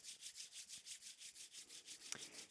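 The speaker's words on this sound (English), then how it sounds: "Begin to rub the palms together," Palms rubbing together in a quiet guided energy practice, a soft close swishing friction repeating in a steady even rhythm about five times a second, with no talking.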